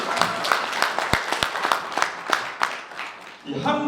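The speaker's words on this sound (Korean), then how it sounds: "박수 한번 보내주시다." An audience at a Korean lecture on traditional tea culture claps in a loud burst of applause with scattered sharp individual claps, which fades as a voice begins speaking at the end.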